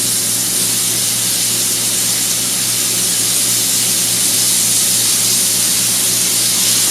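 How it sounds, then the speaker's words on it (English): Flour-dredged cube steak frying in hot oil for chicken fried steak, a loud, dense, continuous sizzling hiss heard close up with no pauses and no voices. "So we're just going to barely fry this cube steak."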